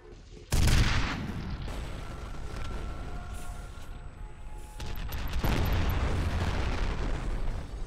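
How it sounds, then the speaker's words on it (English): A grenade blows up in the FEAR video game with a sudden loud blast, then rumbling debris and a second surge of explosive noise a few seconds later, close and dominant. "Oh, grenade."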